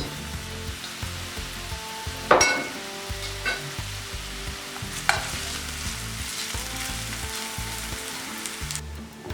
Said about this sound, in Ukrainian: Закидаємо цибульку. І жаримо до золотистого кольору.